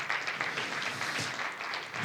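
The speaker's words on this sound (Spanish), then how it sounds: "Aplaudí fuerte, fuerte." A church congregation applauds loudly and steadily, a dense continuous wash of many hands clapping close by without pause for the whole stretch.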